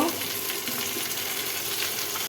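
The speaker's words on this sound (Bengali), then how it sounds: "এখন আলু একটু ভালো করে ভেজে নিব" Potatoes sizzle steadily in hot oil with onions already browned, a dense, continuous frying hiss that stays loud and even before cutting off abruptly at the end.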